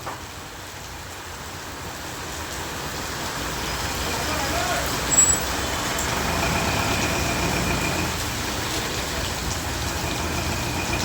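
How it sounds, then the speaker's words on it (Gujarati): Heavy rain pours down steadily during a storm in Bahucharaji, a dense, unbroken hiss that holds at an even level throughout with no clear pauses. "નીચે વરસાદ બહુ ફૂલ ચાલુ છે"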